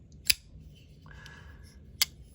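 Two crisp, sharp clicks from an Asher Spiro Ti titanium pocket knife as the blade deploys and snaps into place, separated by a faint metallic slide in a quiet room.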